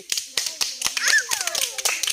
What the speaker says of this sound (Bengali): তালি তালি।